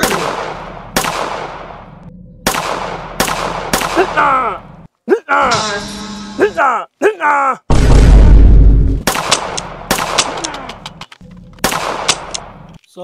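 Gunfire in a Hindi comedy sketch about bandits: several sharp, loud gunshots ring out alone at irregular intervals, with a dense burst of rapid shots in the middle and more single cracks afterward.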